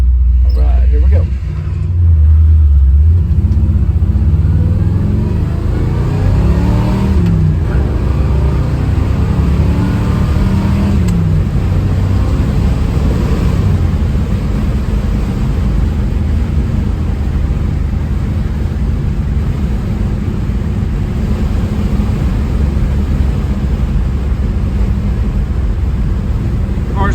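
A 1962 Chevrolet Biscayne with a 409 V8 and 4-speed manual pulls hard through the gears, its deep engine note rising and dropping with each shift, loud and close, with voices talking over it early on.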